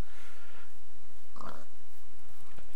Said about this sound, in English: Kill these pigs.